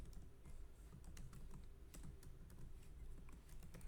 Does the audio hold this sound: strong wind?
no